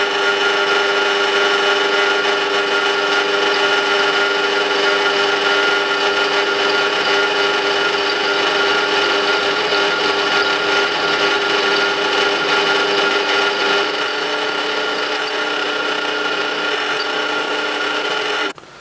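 A Parkside PTBM 500 drill press at 500 rpm bores a hand-sharpened 13 mm bit through 10 mm steel plate, giving a loud, steady mechanical whine with a rough grinding layer that runs unbroken and cuts off at the end.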